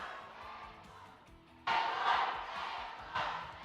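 Esports arena crowd at a Mobile Legends MPL Philippines match roaring and chanting a player's name, a steady wash of massed voices that surges loudly partway through and swells again near the end.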